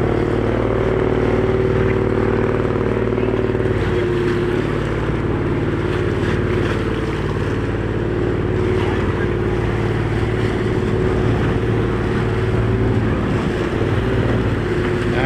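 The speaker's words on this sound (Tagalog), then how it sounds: "Lalaki ng mga bangka guys." Large wooden fishing boats carrying sardines arrive at Bulan fish port, a steady low engine drone with wind and water noise throughout and faint voices in the background.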